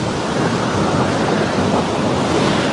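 Sea waves and strong sea wind roar together in a dense, steady wash of noise, loud and close, with no pauses and no voices.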